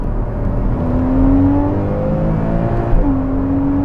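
Porsche Cayman S 981 with PDK gearbox in Sport Plus mode, engine accelerating loudly and steadily up through the revs, a quick gear change near the end, then pulling again, heard from inside the car.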